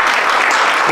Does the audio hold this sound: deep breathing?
no